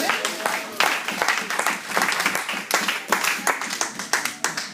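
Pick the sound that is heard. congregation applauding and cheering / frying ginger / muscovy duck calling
congregation applauding and cheering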